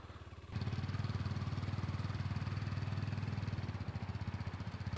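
A motorcycle engine during an A2 riding test, rising sharply after a short quiet start into a steady, loud, chugging mid-range drone with regular pulsing firing beats, easing slightly near the end.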